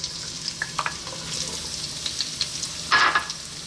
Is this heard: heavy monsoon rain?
no